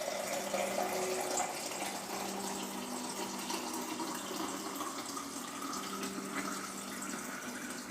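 Steady stream of water poured into a pot for homemade beef stew, a continuous broadband splashing rush that holds at an even level for several seconds with no talk.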